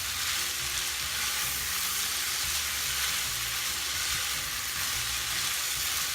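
Chicken lo mein noodles stir-frying in a pan, a steady loud sizzle and crackle of hot oil with faint stirring underneath, continuous and close, no talk.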